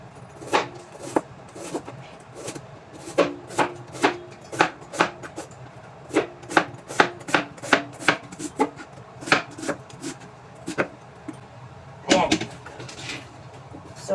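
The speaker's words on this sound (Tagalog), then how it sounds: "Gagayatin ko na para ito ang may meriendahin ko." A knife slices through cucumber on a cutting board in a fast, even series of crisp chops with short pauses, close and clear, ending with a heavier clatter.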